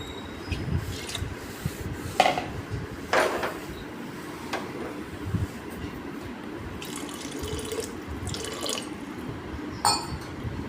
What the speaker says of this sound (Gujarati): થોડું પાણી જોઈએ એવું લાગે છે તો થોડું પાણી નાખીશું હજુ.